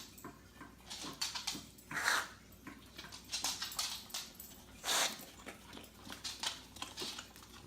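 A dog whimpering and snuffling close by in short uneven bursts, with brief louder yelps and a few soft scratchy bumps between them.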